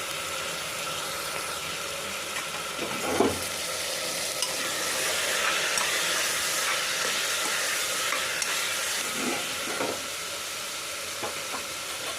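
Onion and potatoes fry in a pan for Kathiyavadi vaghareli khichdi, giving a steady, close broadband sizzle with a few soft stirring scrapes and clinks throughout, no voices.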